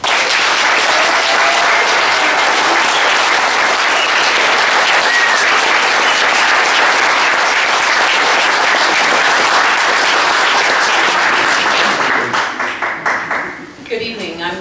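Loud, sustained applause from an audience at a parliamentary candidates' hustings in Midlothian: a thick roar of many clapping hands that runs for over ten seconds before tapering off near the end.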